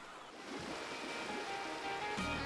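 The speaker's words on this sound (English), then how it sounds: "Time to catch some big waves." Surf washes in a steady, continuous roar at a cartoon beach, with a brief brighter splash near the end, no voices present.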